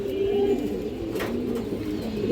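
A male black Bagha pigeon coos steadily and close, a continuous low rolling call that carries through the whole stretch, alone without talk.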